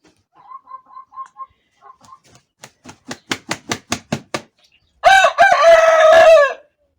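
A pet rooster named Petya gives several soft clucks, then a run of sharp rhythmic taps, and finally one loud, close, drawn-out crow that ends the sequence in a quiet garden.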